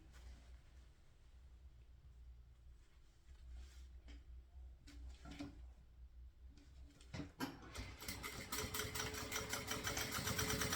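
Sewing machine stitching the zipper and lining of a small handmade mini backpack, a steady mechanical hum that picks up into faster, louder running near the end, with no talk.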